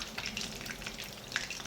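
Surmai fish pieces shallow-frying in oil in a kadhai, giving a continuous, even crackling sizzle heard up close with no talk.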